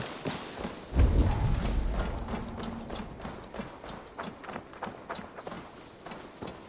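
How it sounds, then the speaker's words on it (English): Horse hooves in the video game Assassin's Creed Valhalla, a loud thump at the start and then a steady run of clip-clop hoofbeats on the ground, close and rhythmic, fading slightly, with no talk. "Now to deliver Magni his horse"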